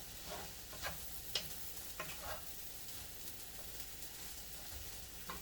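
Garlic stirred through a frying pan with Southwest Chipotle seasoning, a steady soft sizzle beneath intermittent scraping strokes of the utensil, close and fairly quiet.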